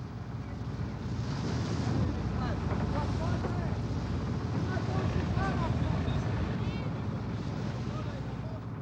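Old wooden sailing ships, bragozzi, brigs and similar traditional vessels, push under engine power through rough Adriatic sea toward Pula, with a steady loud roar of wind, waves and motor and a voice talking over it.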